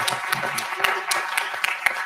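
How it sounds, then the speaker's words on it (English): An audience at a wrestling media scrum breaks into a short round of scattered, uneven clapping, heard close by and mixed with faint voices. "Can we clap again? Like one more time?"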